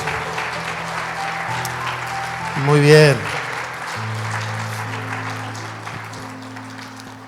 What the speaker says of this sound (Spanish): ¿Por qué no le damos un aplauso a estas personas que se van a sumar?